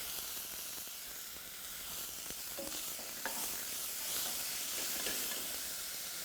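Finely diced brown onion with a pinch of salt cooking in mild olive oil, a soft continuous hiss and sizzle with occasional faint stirs, quiet and close, no voices.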